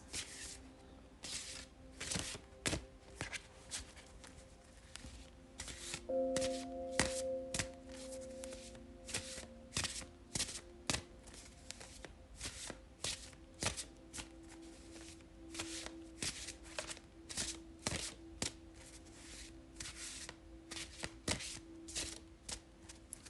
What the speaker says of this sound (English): This deck is so big, it's harder to shuffle.